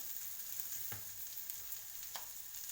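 Onions fry with salt in a pan for a brinjal mash, giving a steady, soft, even sizzle close by with a couple of faint stirring clicks and no voices.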